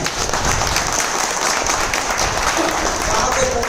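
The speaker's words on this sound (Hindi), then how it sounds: "महेश भाई के लिए एक बार जोरदार तालियां" A large crowd at a company head-office gathering applauds Mahesh with sustained, loud clapping from many hands, a steady roar with faint voices mixed in.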